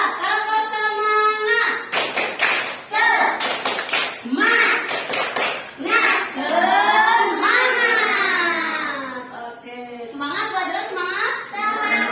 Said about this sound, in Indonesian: Sebelum belajar dimulai, tepuk semangat dulu ah.